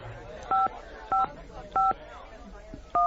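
A telephone number is dialed on a keypad in a Turkish drama, four evenly spaced dual-tone beeps, clear and close, with faint room sound and some speech between them.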